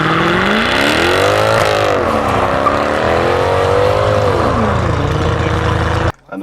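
A tuned BMW 335i with an aftermarket performance exhaust revs hard on a race track, its loud engine note rising and falling in steady sweeps before cutting off abruptly near the end.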